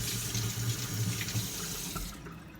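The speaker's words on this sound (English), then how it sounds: "So here we go, 1 cup of water into the mix." A cup of water pours steadily into a savory bread mix for about two seconds, a continuous splashing stream that cuts off near the end, heard up close with no talking.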